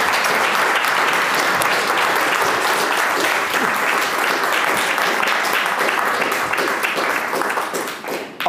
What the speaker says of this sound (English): There's a round of applause for the final presentation.